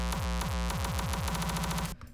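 Electronic kick drums with EQ boosting their tonal frequencies for punch: a fast, steady stream of loud, booming thumps within a dense, harsh mix that cuts off abruptly at the end.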